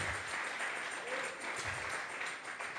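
A church congregation claps together at a Sunday service, a steady continuous wash of applause filling the room from start to finish.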